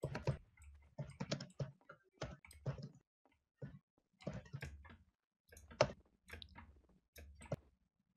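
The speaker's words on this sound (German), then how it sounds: "Warum höre ich es bei Finn so hart tippen?" Hard, quick keystrokes on a computer keyboard come in close, uneven bursts of sharp clicks with short pauses between them during a Trouble in Terrorist Town gaming session, with no voices over them.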